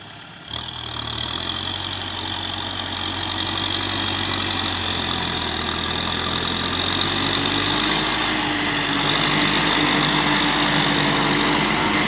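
Kubota M6040 tractor engine pulling a 6-disc plow while preparing a field for sugarcane, a loud steady diesel drone with a constant high whine running throughout.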